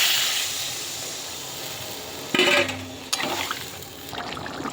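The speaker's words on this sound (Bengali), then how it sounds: "জল দিয়ে দিই।" Water poured into a cooking pan of spiced catla fish heads with potato curry, a brief splashing trickle that rises sharply, breaks off, then resumes more softly against steady kitchen hiss.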